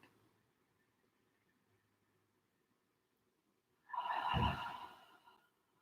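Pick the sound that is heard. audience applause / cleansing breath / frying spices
cleansing breath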